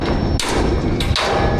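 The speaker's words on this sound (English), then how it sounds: "Can you hammer that bolt out?" Two sharp metallic strikes, close and loud, about half a second apart, as a bolt is hammered out on a 120,000-gallon fire tank, over a steady noisy background.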